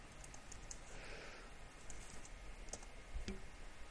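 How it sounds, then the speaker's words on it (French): Light clicking of someone typing on a computer keyboard into a Google search, faint, scattered keystrokes over quiet room tone, with a couple of sharper taps near the end. "On va taper le modèle et puis on va regarder sur Google."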